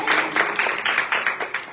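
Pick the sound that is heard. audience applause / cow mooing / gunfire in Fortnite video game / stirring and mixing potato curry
audience applause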